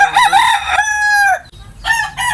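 A labuyo breed rooster crows close by, one loud cock-a-doodle-doo followed by the start of another crow.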